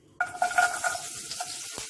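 Sudden loud sizzle as garlic hits hot oil, then a steady crackling hiss with a few stirring scrapes, no talking.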